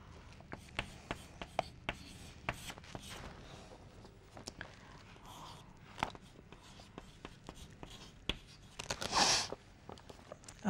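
Someone writes a long physics equation by hand, a steady run of close scratching pen strokes and sharp taps on the surface, with no talking.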